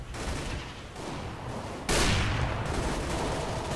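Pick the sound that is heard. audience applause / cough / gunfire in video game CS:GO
gunfire in video game CS:GO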